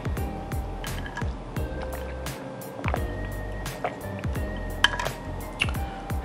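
Water is drunk close to the mic during a soul food neck bones meal, with wet gulps, drips and squishy liquid sounds scattered over a low background.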